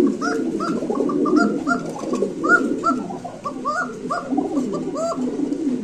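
Tiger Beauty pigeons coo in a continuous run of soft, rolling, repeated calls, close and fairly loud, several birds overlapping with no talk.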